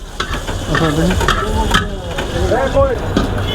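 Egg fried rice made with chinigura rice being stirred and fried in a pan at a Bangladeshi food stall, a steady sizzle with scraping stirs, while a voice talks over it.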